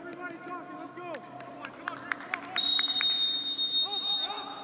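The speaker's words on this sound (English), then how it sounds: "Referee blows his whistle." Referee's sustained shrill whistle blast starts a Sporting Kansas City II vs OKC Energy FC soccer match, loud over crowd noise and commentators' talk, after several short chirps.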